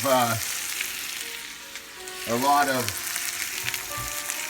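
Chicken and rice mixture sizzling and frying in a pan as it is stirred and mixed around, a steady close crackle with voiced remarks spoken over it at the start and again midway.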